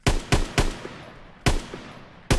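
Polish marksman rifle firing in a Call of Duty game: five loud, sharp shots at uneven intervals, each with a short echoing tail, alone without voices.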